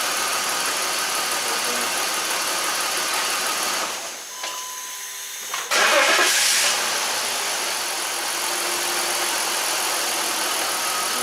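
A 2006 BMW X5 engine runs with a random misfire, a steady, loud idle with uneven character that dips briefly to a quieter stretch before a sharp burst and then settles back into a continuous rumble.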